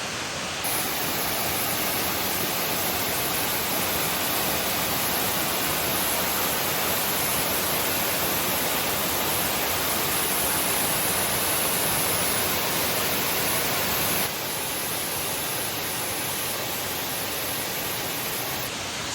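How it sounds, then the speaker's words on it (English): The waterfall at Bangalore Creek Canyon roars as a dense, steady broadband rush, loud and unbroken from start to finish with no voices. "This waterfall still blows me away."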